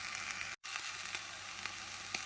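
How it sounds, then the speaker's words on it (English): Eggs for a ham and egg omelet sizzle loudly in a pan cooked inside a car, a steady dense frying hiss with one brief drop to silence near the start. "you can't believe how much sizzling we got going"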